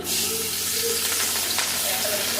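Rohu fish pieces rubbed with salt and turmeric sizzle steadily in hot oil, a close, continuous hiss of frying with faint watery crackle throughout.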